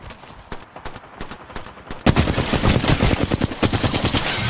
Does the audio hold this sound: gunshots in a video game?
yes